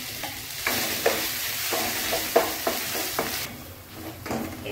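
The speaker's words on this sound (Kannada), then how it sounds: "ಇದು ನೋಡಿ ಸ್ವಲ್ಪ ಚೆನ್ನಾಗಿ ಫ್ರೈ ಆಗಿದೆ" Spice paste for avarekai usli sizzles in a pan with mustard seeds, a soft steady hiss broken by a few light clicks and scrapes of stirring, fairly quiet and without talk.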